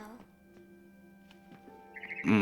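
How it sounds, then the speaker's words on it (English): A barn swallow chirps outside a window in the video game What Remains of Edith Finch, with a brief cluster of bright chirps rising at the end over quiet game ambience. "Then I heard chirping outside my window."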